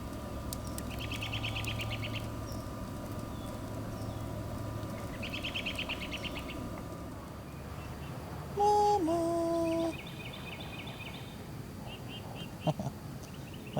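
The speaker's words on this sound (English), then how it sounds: "You watching the birds? The birds playing in the trees over there?" Birds chirp in trees near Jackson Island in short repeated bursts. The calls are faint to moderate against steady outdoor background noise, and a clearer tonal call stands out briefly partway through.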